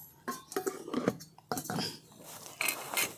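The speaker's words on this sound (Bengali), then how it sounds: "ভালো করে সমস্ত কিছু মিশিয়ে নিচ্ছি একসাথে।" A cooking pot of light river fish curry with fennel paste and potatoes being stirred, giving scattered close scraping and clinking of a utensil against the metal in uneven bursts.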